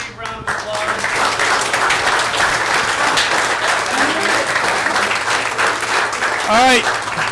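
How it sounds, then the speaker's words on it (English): Audience applause at a city council meeting, loud sustained clapping from the room with cheers and scattered voices mixed in, opening and closing with brief bursts of talk. "Let's everybody give these guys a great big round of applause."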